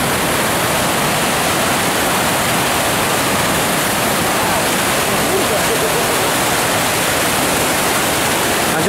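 Floodwater in a creek under the Av. San Martín bridge roars as a loud, dense, continuous rush, with no breaks and no audible speech.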